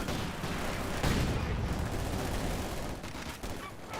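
Mortar fire in the World War II strategy game Company of Heroes 2, a dense wash of distant booms and gunfire with a heavier burst about a second in, continuing steadily without talk.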